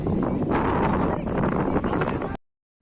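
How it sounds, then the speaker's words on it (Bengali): Strong wind buffets the microphone beside Kaptai Lake in Rangamati, a loud continuous roar that cuts off abruptly near the end. "প্রচুর বাতাস যার কারণে এরকম শব্দ হচ্ছে"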